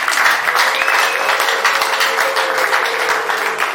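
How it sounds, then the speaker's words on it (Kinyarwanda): A church congregation applauding for a pastor, a dense, sustained wash of clapping from a large crowd that fills the room evenly throughout. "Ubu rero kugeza aka kanya mwamumera amashyi menshi y'umuntu."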